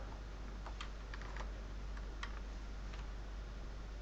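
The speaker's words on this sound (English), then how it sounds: "To rotate the object, you need to hit Y on the keyboard" Computer keyboard keys are pressed in a few quiet, scattered clicks over a constant low hum, with light taps clustered near the start and middle.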